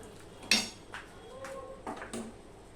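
Fish being stirred in oil in a cooking pan for a fish-oil curry, a few separate metal spatula scrapes and clinks against the pan at an uneven pace, close and moderately loud.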